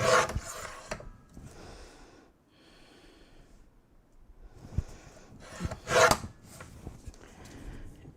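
Paper being cut into small pieces for a handmade card, with a few close rasping and scraping cuts separated by quieter pauses and no speech.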